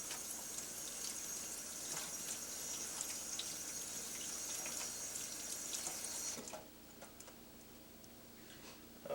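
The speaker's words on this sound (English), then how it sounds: "We're going to wash the celery off." Celery rinsed under a running kitchen tap, a steady close hiss of water splashing in a sink that cuts off abruptly near the end, leaving a quieter room.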